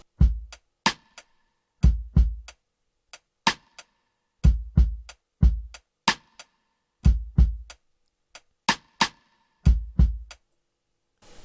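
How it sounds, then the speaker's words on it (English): A sparse drum pattern repeats with deep kick thumps and light ticking hi-hat and side-stick hits, steady and dry with no other instruments. "So the drums sound like this."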